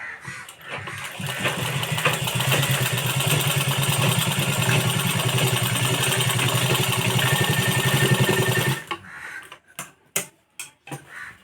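A sewing machine stitching a blouse runs in a fast, steady mechanical whir for about eight seconds, then stops, followed by a few sharp clicks and taps close by.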